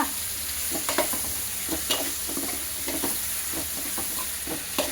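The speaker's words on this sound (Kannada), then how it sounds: "ಫ್ರೈ ಮಾಡ್ಕೊತಾ ಇದ್ದೀನಿ" Chicken frying in a pan, a continuous close sizzle with rhythmic stirring scrapes every second or so, no voices.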